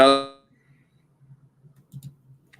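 A single bright chime of a phone alert notification rings out clearly at the start and fades quickly, leaving a quiet room with faint low thumps.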